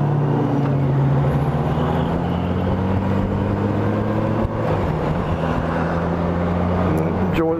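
A Honda Goldwing motorcycle rides along with a constant low engine drone mixed with steady wind rush, close and even throughout, with no speech.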